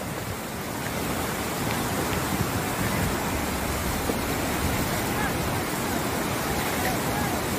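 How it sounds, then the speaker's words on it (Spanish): A river rushes beneath a road bridge during a landslide disaster, a loud, steady broadband roar of churning current that holds constant throughout, with no breaks. "Allá abajo está el río."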